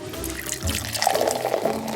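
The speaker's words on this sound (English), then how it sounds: "The first thing we have to do is we have to put the sap into the evaporator." Maple sap pours into a hot evaporator in a sugar shack, a steady splashing liquid stream running throughout, close and moderately loud with bright watery bubbling.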